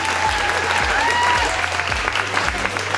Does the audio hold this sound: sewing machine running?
no